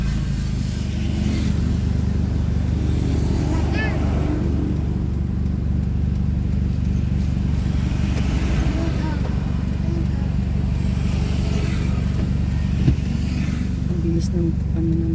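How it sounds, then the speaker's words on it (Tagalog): Vehicles speed past on a road, a continuous loud rush of car and motorcycle engines with no breaks. People talk over the traffic throughout. "Ang bilis ng ano na mga sasakyan."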